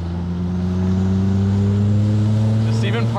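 A Mitsubishi Eclipse GSX engine with doubled horsepower hums steadily with a strong low drone that climbs gradually in pitch as it revs, loud and close.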